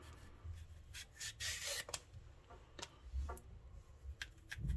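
A handheld vegetable peeler shaves ribbons off a vegetable in a series of quick, scraping strokes, each rasping pass close and fairly soft, with small knocks and clicks between them.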